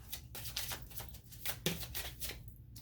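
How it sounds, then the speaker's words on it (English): Romance Angel Oracle cards shuffled by hand in repeated soft riffling bursts, close and fairly quiet, with no talking over them. "These are the Romance Angel Oracle cards from Doreen Virtue"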